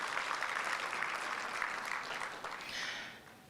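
Conference attendees applaud a speaker, a moderate burst of clapping from a modest crowd that stays steady before tapering off toward the end.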